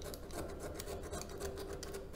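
Rosin is scraped into a fine powder in a small bowl, making a close, continuous dry rasping and scratching that holds steady throughout.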